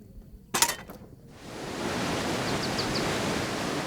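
Rain-swollen river flowing under the bridge between Rwanda and Tanzania, a dense, steady rushing roar that swells in after a brief clatter and then holds continuously, loud and near with no voices.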